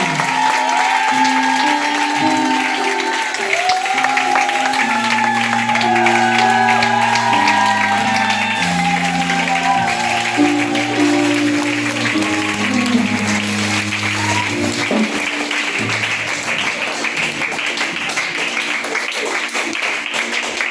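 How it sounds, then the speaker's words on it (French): Applause from a church congregation during a prayer service and honour-certificate ceremony, steady clapping throughout beneath loud sustained music with organ-like tones. "Merci d'avoir applaudi pour moi."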